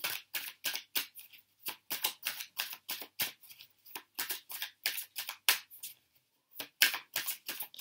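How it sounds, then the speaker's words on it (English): Tarot cards being shuffled by hand, quick repeated riffling flutters in irregular bursts with short pauses, close and clear. "Let's just shuffle all the other cards out as well at the same time"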